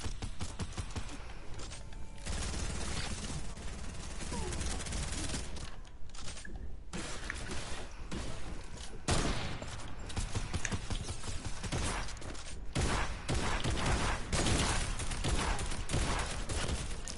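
Rapid gunfire from a video game crackles in dense bursts and bursts of volleys, loud and continuous with mechanical clatter, without talk.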